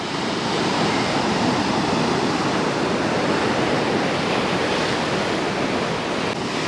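Sea waves crash and foam against coastal rocks near Beypore in Kozhikode, making a loud, continuous roar of surf that stays close and steady throughout, with no voices.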